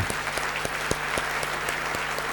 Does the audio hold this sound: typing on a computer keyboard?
no